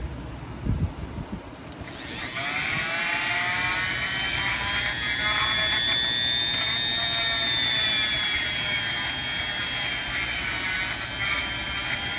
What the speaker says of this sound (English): take it over to your air hose and blow it out